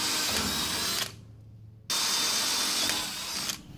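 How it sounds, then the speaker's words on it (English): Power drill boring a hole into the front bumper of a 1966 Ford Bronco during LED light installation: a close, loud, steady whine that stops for about a second, then resumes and runs on. "Drill it and"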